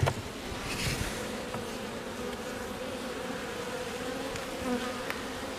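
Honey bees buzz steadily on a hive frame in a winter apiery, a close, continuous drone with no talk over it.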